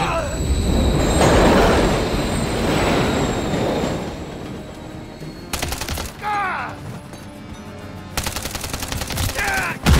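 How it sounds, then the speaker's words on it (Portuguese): A train rumbles loudly past in the Modern Warfare 3 video game, a heavy, steady roar over the first half, followed by sharp bursts of gunfire. "Mais um trem vindo."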